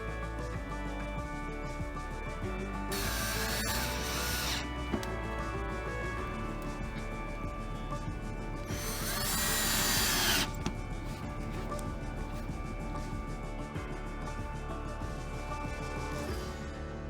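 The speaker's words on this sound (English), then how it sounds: "when the skies cleared up, I pulled out my sprayer to finish the job." A paint sprayer spraying water-based polyurethane onto a dresser, a steady motor whine running throughout, with two louder hissing bursts of spraying at intervals, nearby and fairly quiet.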